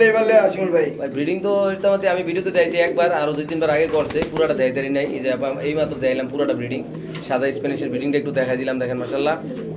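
A pair of Spanish pigeons held in hand give soft, repeated cooing calls up close, while someone talks over them almost without pause.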